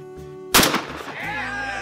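A single loud shotgun blast at a trap shooting range cracks sharply and close, then its echo and rumble trail off while a steady low background hum continues.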